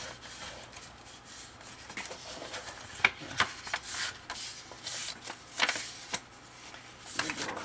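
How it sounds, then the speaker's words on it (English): Paper for a small scrapbooking folio is folded and creased along a traced line, giving soft close rustling, rubbing and crinkling with a few sharper crackles, quiet and uneven, with no talk. "Then you're going to fold that on the line that you've just traced."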